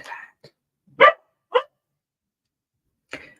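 A few dogs barking indoors in short separate bursts, a small yip near the start and then three louder barks spread over a few seconds, with quiet gaps between them and no talk.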